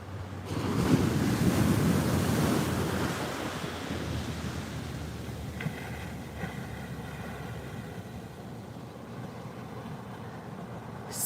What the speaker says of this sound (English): The way the waves are breaking down there is like really mind-blowing.